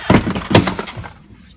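Plastic clips of a car door trim panel popping loose as the panel is pried off, two sharp cracking snaps close together, then a fading rattle.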